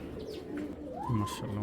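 A five-year-old green Giribaz pigeon of an old breed gives a rolling coo up close, a single swelling call in the second half over low murmuring.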